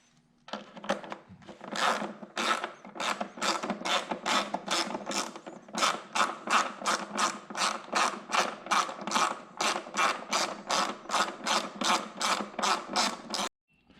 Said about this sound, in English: You can actually go through the bottom and get it with like a ratcheting wrench.